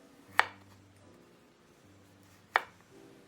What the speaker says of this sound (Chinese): 这是去皮的胡萝卜50克，我们像这样把它切片